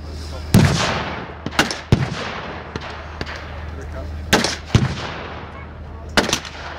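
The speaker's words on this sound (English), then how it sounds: "US forces have now brought in some heavy artillery, and hopefully to them pounding the German positions" Heavy artillery booms during a WWII battle reenactment, several loud, sharp blasts spaced irregularly apart, each followed by a rumbling tail over a steady low drone.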